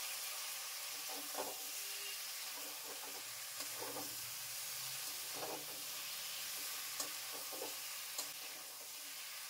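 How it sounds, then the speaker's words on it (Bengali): Goat head meat frying over low heat in a pan, giving a steady close sizzle with occasional stirring scrapes and clinks throughout. "হালকা আঁচে একটু ভালো করে ভেজে নিতে হবে"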